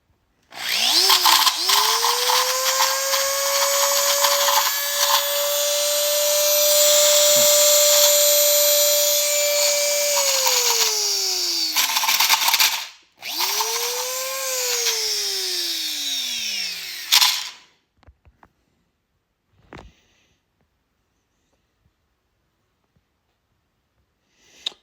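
A power drill whines steadily at high speed for several seconds while fitting guards onto a MacDon D65D header, stops briefly, spins up again and winds down, loud and close.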